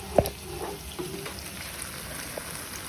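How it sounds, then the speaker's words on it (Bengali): Jalebi fry in hot oil, a continuous close bubbling sizzle with a sharp clack near the start and a few faint utensil taps. "এই তো এখন জিলাপিগুলো ভেজে নিচ্ছি"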